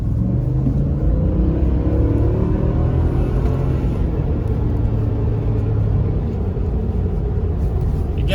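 Heavy Ford Super Duty pickup with the 7.3-litre gas V8 pulling in sixth gear on a straightaway, a steady loud low engine drone and road rumble heard from inside the cab throughout.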